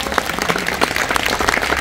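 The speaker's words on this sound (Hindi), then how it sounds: "एक बार इनके लिए जोरदार ताली बजाओ" Applause from an audience at a coaching centre event, a dense, steady patter of many hands clapping close by and fairly loud throughout, with no speech over it.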